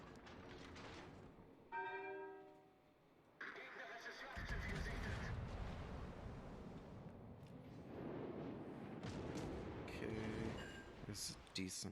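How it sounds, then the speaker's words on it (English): German battlecruiser guns firing a salvo in a naval battle game, a heavy booming blast followed by rolling rumble and a few later thuds, with someone talking over parts of it. "Okay, this is a decent salvo."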